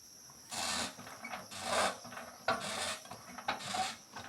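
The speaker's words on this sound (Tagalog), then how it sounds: "Nagsisimula na po siya mag-spray ng damo." A knapsack sprayer pumps rhythmically while weeds are sprayed outdoors, giving a repeated rasping, squeaky stroke about once a second, fairly close and without talk.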